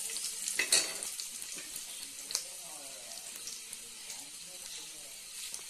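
Ingredients for ghee khichdi fry in a pan, a soft, close sizzle with faint crackles and occasional scraping of a spoon, fairly quiet throughout.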